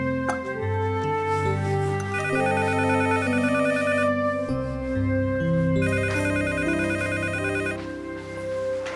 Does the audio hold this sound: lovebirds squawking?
no